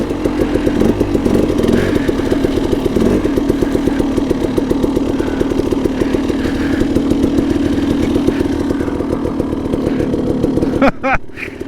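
A KTM 300 two-stroke dirt bike engine drones loudly and continuously with a rapid buzzing pulse as it climbs a muddy, rocky hill, briefly cutting out near the end; no speech is heard.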